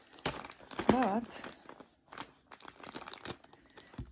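Wrapping paper is crumpled while an order is packed for shipping: a few quick crinkling bursts close to the mic, mixed in with soft talking.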